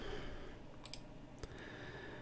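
Soft keystrokes on a computer keyboard typing a single short word, a few faint clicks scattered over a quiet low hum, close and light with no voices.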